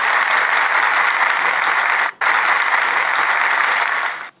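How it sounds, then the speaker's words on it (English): Steady applause from a crowd, a dense even wash of clapping that cuts out briefly midway, then resumes and fades at the end. "a round of applause"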